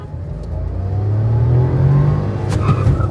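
Maruti Fronx Turbo and Volkswagen Virtus TSi engines pull hard side by side in a drag race, a steady low rising drone building and swelling through the run, close and loud with no talk over it.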